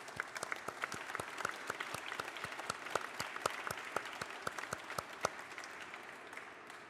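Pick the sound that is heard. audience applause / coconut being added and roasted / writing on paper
audience applause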